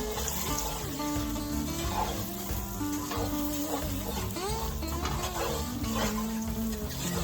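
Flour is stirred into sizzling fat in a pot to make a roux for a creamy loaded potato soup, a steady, continuous frying hiss with faint scraping of the stirring, and no talking.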